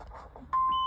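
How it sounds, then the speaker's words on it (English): A motorhome dashboard alarm sounds a single steady electronic tone that starts abruptly halfway through and holds, warning that the leveling jacks are down, after a moment of low engine rumble. "The alarm's going off because the jacks are down."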